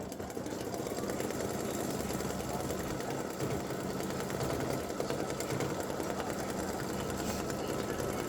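An embroidery machine stitches an applique outline around a ribbon on a Santa legs and bow design, giving a dense, continuous mechanical whirr and rapid needle chatter at a steady level for the whole stretch, with no voices.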